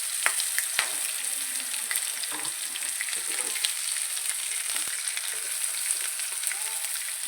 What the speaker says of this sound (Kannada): ಹಾಗೆ ಚಿಕ್ಕದಾಗಿ ಹೆಚ್ಚಿಟ್ಕೊಂಡಿರೋ ಬಟಾಟೆನೂ ಹಾಕ್ತಾಯಿದ್ದೀನಿ